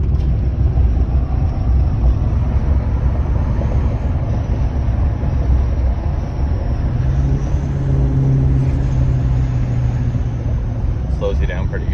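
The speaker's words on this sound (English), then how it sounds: "Turbo brake." A 2006 LBZ Duramax diesel truck with a 5-inch straight-through exhaust and no muffler, working its turbo brake: a loud, steady, dense exhaust roar that holds for several seconds, heard up close.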